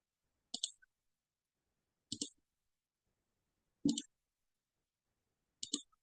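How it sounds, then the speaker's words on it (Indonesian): Isolated clicks from keys being typed on a keyboard in a quiet room, four short taps spaced more than a second apart, close and fairly soft. "Nah, ini ngetik nih."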